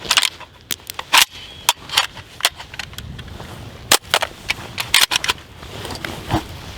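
Sharp gunshots from a Riley Defense RAK 47 rifle during a malfunction test with a stuck case, a dozen or so loud cracks in irregular bursts, some close together, with faint handling noise between.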